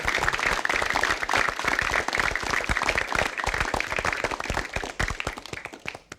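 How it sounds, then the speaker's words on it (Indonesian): A television studio audience gives contestants a lively, dense round of applause with crisp individual claps, fading away at the very end. "mari kita beri tepuk tangan semangat yang meriah buat para peserta"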